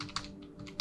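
Code is typed into a C# program on a computer keyboard, giving a few soft, quick keystrokes in a short burst close by.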